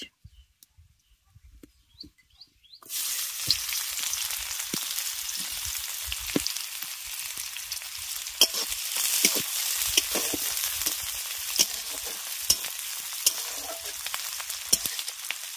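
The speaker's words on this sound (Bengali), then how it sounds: "এবার তেলটা খুব ভালোভাবে গরম হয়ে গেলে এর মধ্যে দিয়ে দেবো একটা তেজপাতা আর শুকনো লঙ্কা।" Bay leaf, dried chili and chopped onion fry in hot fish oil for a Bengali greens dish, the pan bursting into a loud, steady crackling sizzle after a few quiet seconds, with scattered spatters and stirring clicks throughout.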